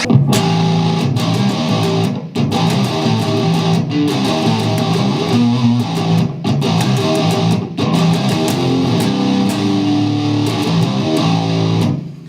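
A heavily distorted electric guitar plays a verse riff, a dense, driving stream of chugging notes with brief pauses, loud and close throughout.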